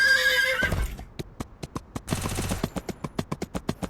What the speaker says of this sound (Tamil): இங்கே ஒரு குதிரை இருக்கும்.